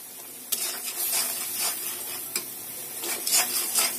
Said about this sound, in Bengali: মাছ রান্না করতেছি, মশলা কষাইতেছি